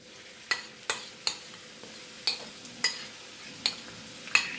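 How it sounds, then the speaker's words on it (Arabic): Onion sautés in a pan over a faint sizzle, while a utensil strikes the pan in sharp, evenly spaced knocks, about eight in all. "هلا بدي اضيف البصل"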